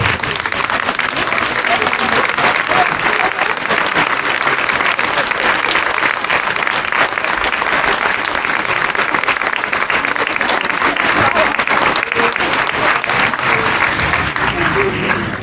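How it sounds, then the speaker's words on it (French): A conference audience at a Toulouse congress rises and applauds the organising team in a sustained, loud, dense ovation that carries on evenly for the whole stretch. "je vais vous demander de vous lever et d'applaudir toute l'équipe qui a organisé cette"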